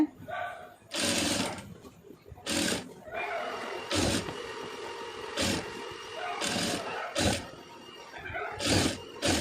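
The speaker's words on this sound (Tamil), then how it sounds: "லைட்டாக விரலில் தேய்ச்சிக்கிட்டே தைங்க" Sewing machine stitching a trendy neck design on a garment, running in short whirring bursts of about a second each, separated by pauses, close and fairly quiet.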